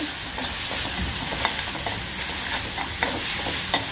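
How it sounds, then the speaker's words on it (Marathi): Garlic and asafoetida sautéing in a pan while Marathi-style batata vada filling is prepared, giving a steady close sizzle with a few sharp scraping stirs of a spoon against the pan. "नंतर आता त्याच्यामध्ये आपल्याला थोडीशी हिंग टाकायची आहे आणि ती परतून घ्यायचं आहे"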